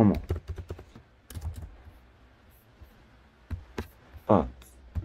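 Keys clack on a computer keyboard in irregular bursts of close, crisp taps with pauses between, while someone talks over the typing.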